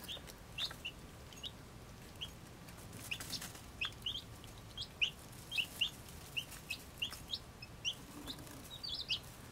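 Week-old baby chicks give high, thin peeps in quick, irregular bursts, some close and sharp, others softer, over a quiet, hissy background.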